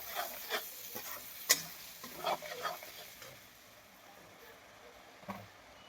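A spatula stirs besan (gram flour) in a pan with soft scraping strokes and a light sizzle. It stays quiet and close, with a few sharper clicks early on and a voice faintly in the background.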